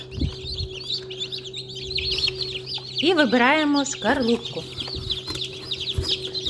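Dense high peeping of many newly hatched chicks in an incubator fills the background, with a louder nearby chirping burst midway and someone speaking briefly over it.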